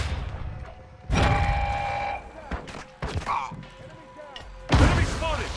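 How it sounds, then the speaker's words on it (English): A flash grenade goes off in a shooter video game, heard among several loud, sharp blasts spaced a second or two apart, with in-game character voices calling out between the bangs. "Throwing flash grenade!"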